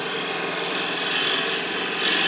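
A gouge cuts steadily on a wood lathe, smoothing the inside bottom of an enclosed turned form. The close, continuous hissing shear of the cut holds an even level throughout, with no talking.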